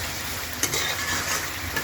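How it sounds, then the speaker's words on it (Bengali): Potatoes and eggplant sauté in hot oil in a pan for a hilsa fish curry, giving a steady, close sizzle with occasional scraping stirs. "ইলিশ মাছের আলু আর বেগুনটা খুব ভালো করে কষিয়ে নিতে হবে"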